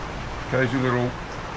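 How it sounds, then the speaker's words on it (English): Heavy rain pours down on Hamilton Island as a constant hiss of dense, wide falling water, with a brief voice rising over it partway through. "I just thought maybe I should show you the rain. It is pouring down."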